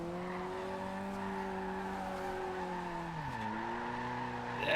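A 2016 Mazda MX-5 with a drift tune sliding in Forza Horizon 2, its engine holding a steady drone as the tires squeal, the pitch dipping as the slide shifts and then surging again near the end.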